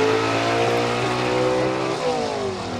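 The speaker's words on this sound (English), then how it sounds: "listen to this car leave the line" Gasser drag race car in B-Gas class at Aiken, NC launching off the line, a loud, close engine roar with rising and falling revs and strong harmonic tones, sustained throughout.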